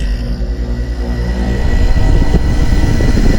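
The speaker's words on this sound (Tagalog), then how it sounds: "bubuksan ko ng aircon." A room air conditioner switching on and building into a steady, close, loud motor hum with a whooshing airflow, alone with no talk.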